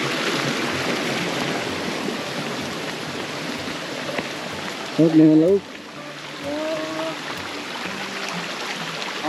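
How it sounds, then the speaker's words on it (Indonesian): A stream flows steadily nearby, a tributary running down from the Curug Siliwangi waterfall, its broadband wash continuous throughout while a voice speaks briefly over it midway. "Anu teh anak Sungai. sungai dari Curug Siliwangi nya tadi."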